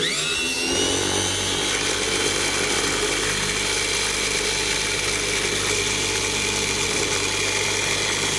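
Small electric slot car motor spinning steadily at around 3,000 RPM on a test rig, a continuous close whine and buzz that holds an even pitch throughout.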